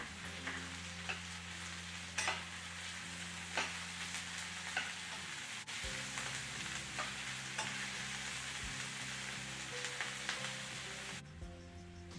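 Chopped capsicum being stir-fried with macaroni for chilli masala pasta in a pan: a steady sizzle with scraping spatula strokes recurring every second or so, close and alone without any talk.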